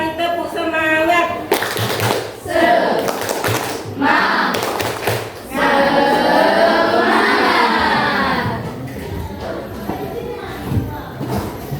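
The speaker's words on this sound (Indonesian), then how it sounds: "coba satu kali tepuk semangat" A class in an Islamic religious education lesson performs a rhythmic group clapping chant, bursts of claps in a patterned beat mixed with voices chanting together, fairly close and loud.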